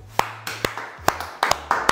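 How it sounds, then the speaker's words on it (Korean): A handful of separate, close claps in a small room, sharp irregular hand strikes spaced across a couple of seconds over a low steady hum. "일단 박수"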